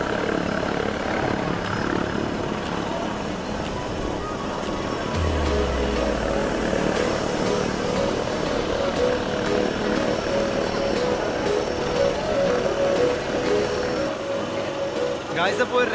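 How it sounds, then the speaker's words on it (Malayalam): A helicopter flies over a crowded water festival show, its engine droning as a low rumble beneath constant crowd noise and chatter, swelling briefly in the middle before fading back into the din. "ഹെലികോപ്റ്റർ ഷോ ഇപ്പൊ തന്നെ തുടങ്ങുന്നു പറഞ്ഞു കേട്ടിട്ടുണ്ട്"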